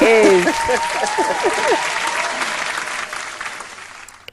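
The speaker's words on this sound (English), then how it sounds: "Where's the applause in the background?" Studio applause for a radio show contest winner, a burst of clapping that starts loud alone then fades steadily, with a voice talking over the opening moments.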